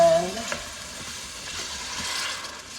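Broth is poured slowly into a hot roux for chicken and sausage gumbo, giving a steady, soft sizzle and hiss with a brief stir or clink near the start, fairly quiet and without talk.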